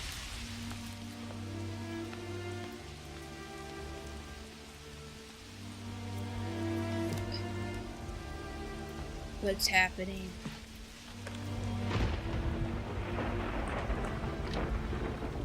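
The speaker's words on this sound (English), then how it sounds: "The thunderstorm has a really nice effect" Rain and rolling thunder from a thunderstorm effect in a video game, a steady wash of rainfall under game music with a brief louder crack midway, while people talk over it.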